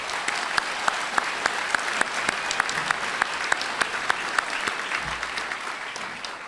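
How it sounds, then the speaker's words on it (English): Large crowd applauding an army band at a military graduation ceremony outdoors, sustained dense clapping with a few sharper individual claps standing out at a steady loud level throughout. "How about a round of applause for our band?"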